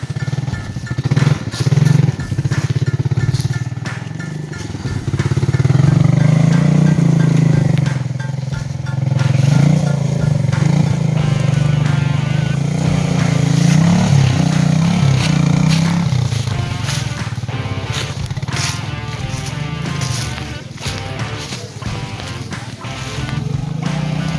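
Four-wheeler ATV engine running and revving loudly on a wooded trail with creek crossings, a steady rumbling drone that rises and falls, with people talking over it.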